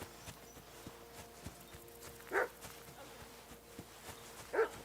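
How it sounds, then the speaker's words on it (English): Two faint, short dog barks sound a couple of seconds apart in the Kingdom Come Deliverance 2 video game, over a steady rhythmic clip-clop of horse hooves. "I hear a dog."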